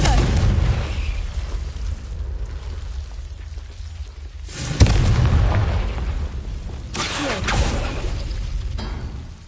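Confringo fire spell explosions in Hogwarts Legacy, a couple of sharp booming blasts with bursting, crackling decay over a rumbling game soundscape.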